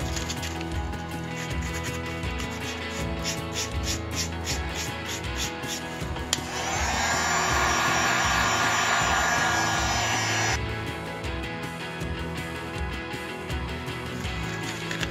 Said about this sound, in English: I'm going to grind down the seams a little bit